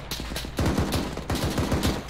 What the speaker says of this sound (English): Sounds like the shots are coming from the southeast.